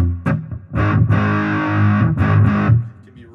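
A Xaviere XV-610 electric guitar with its tone control turned dark, played through distortion, gives thick, muddy sustained chords with a couple of picked attacks, loud and close, with no talking.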